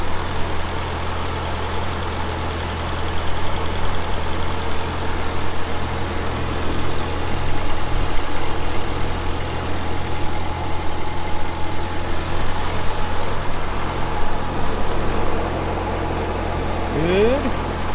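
An old tractor engine, freshly repaired and running a little smoky, idles steadily with a low, even rumble that holds close and constant for the whole stretch.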